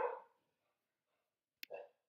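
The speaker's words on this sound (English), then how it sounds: "my dogs seem to have sounded the barking alarm." Pet dogs barking indoors, one short bark, then silence, then a sharp clack followed by another bark, distant-sounding and fairly faint.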